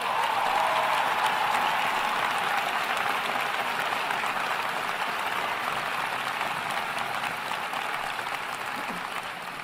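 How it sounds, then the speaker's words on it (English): An inaugural address crowd applauds the new city council aldermen, sustained dense clapping filling the hall at a steady level for nearly ten seconds and easing slightly toward the end, with no talk over it. "Let's give them a round of applause."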